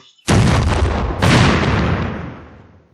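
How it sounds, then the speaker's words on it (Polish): Tank cannon firing in the strategy video game Panzer Tactics HD: two heavy booming shots about a second apart, each loud and sharp at the onset and rumbling away, no talking over them. "z tej armaty już możemy strzelać spokojnie"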